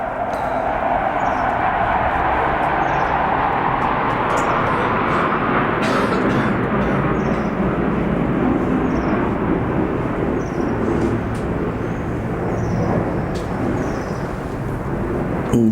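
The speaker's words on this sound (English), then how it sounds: "That aeroplane was just interacting with us." An aeroplane flying overhead, a loud continuous broadband roar that sweeps slowly and stays steady throughout, heard alone without voices.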